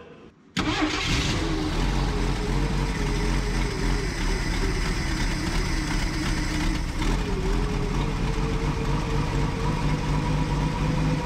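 The 240 straight-six in a 1965 Ford F100 farm truck, left sitting for years, catches and runs steadily with a rough exhaust leak, a loud continuous chuffing rumble close by after a brief quiet start.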